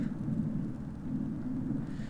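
Thunder from a lightning storm gives a steady, low, continuous rumble that holds at an even loudness for about two seconds, with no talking.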